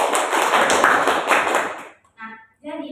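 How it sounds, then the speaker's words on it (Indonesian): A classroom bursts into applause for two student groups, dense clapping for about two seconds that fades out, followed by a few brief voices. "mari kita beri tepuk tangan kepada kedua kelompok ya"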